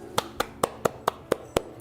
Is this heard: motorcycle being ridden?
no